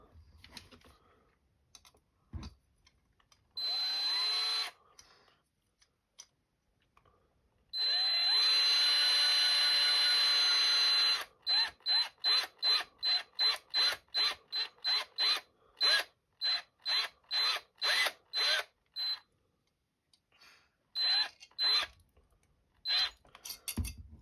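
A power drill tightening bolts on an ImpulseRC Apex HD drone frame whirs in short bursts, two long runs followed by a rapid series of brief trigger pulls, loud and close, separated by quiet pauses.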